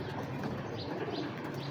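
Inbred pigeons at a home loft coo softly in low repeated murmurs amid a busy background of rustling and faint chirps.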